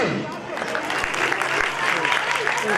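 Sustained applause from an audience at a higher secondary school event, welcoming a speaker to the stage; steady, dense clapping fills the whole stretch with a voice faintly mixed in.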